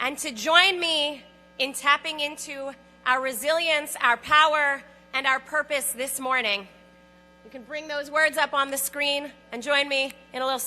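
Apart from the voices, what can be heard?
No distinct noise like a dog, phone or traffic.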